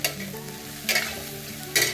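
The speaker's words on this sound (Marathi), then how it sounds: "या कढईमध्ये मी 3 कांदे, खोबरं, अद्रक, लसूण फ्राय करत आहे" Onions, coconut, ginger and garlic fry in a kadhai for misal masala, a continuous close sizzle broken by three loud scraping stirs.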